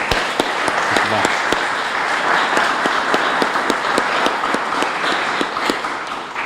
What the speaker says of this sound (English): Just a round of applause for Miss Kuda.